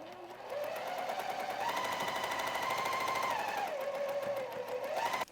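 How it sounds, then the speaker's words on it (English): A sewing machine runs steadily, stitching a quarter-inch seam on a quilt made from a layer cake of precut fabric squares, its rapid needle clatter whining up and down in pitch as the speed changes. "I'm going to stitch a 1/4 inch seam allowance down this way"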